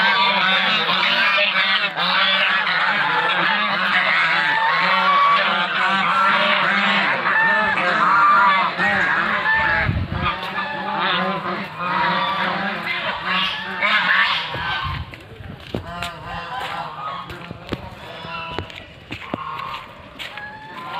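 A large flock of royal geese on a farm in Nalbari, Assam, honks loud and close in a dense, overlapping chorus that goes on without a break, thinning a little toward the end.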